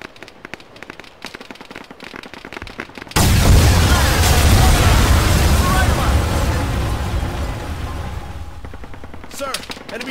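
Gunfire and explosions in the military video game Arma 3 as an enemy tank is destroyed: after a few quiet seconds, a sudden loud blast erupts into a dense, roaring barrage that rumbles on and slowly fades, with faint sharp shots returning near the end.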